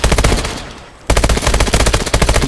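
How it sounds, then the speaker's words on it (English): Rapid automatic AK rifle fire in Call of Duty Advanced Warfare survival mode, loud close bursts with a brief pause before a sustained stream of shots. "I got a motherfucking AK for you."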